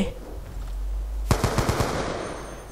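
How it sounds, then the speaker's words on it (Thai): A quick burst of about six rapid shots from a test-fired gun in the video game Call of Duty Black Ops 2, loud and close, preceded by quieter game ambience. "นี่ทดลองปืนเฉยๆครับท่านผู้ชม"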